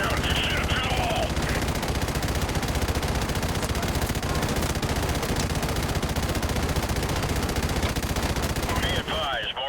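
Sustained, dense machine gun fire from the Call of Duty Modern Warfare video game fills the whole passage loudly and without pause, with a brief dip in the final moment.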